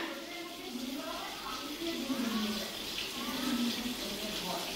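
Water running steadily from a tap as hands are washed, a continuous splashing flow with a voice talking over it.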